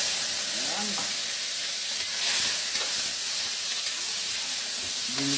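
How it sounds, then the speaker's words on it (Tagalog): Sliced pork belly sautéing in a hot pan, a loud, steady sizzle and hiss with occasional stirring scrapes, close and without speech. "Ginigisa ko muna yung karne."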